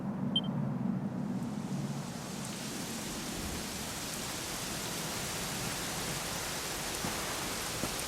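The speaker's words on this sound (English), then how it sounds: "it was raining like this the last time I ever saw her" Steady rain falls in Dragon Quest XI, a soft continuous hiss with no distinct drops, even and unbroken throughout at a low level.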